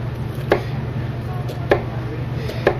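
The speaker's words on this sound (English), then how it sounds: "Got simple, nice little chopped up onions." A knife chopping onions on a cutting board in a kitchen, three distinct sharp chops spaced about a second apart over a steady low hum, with no talking.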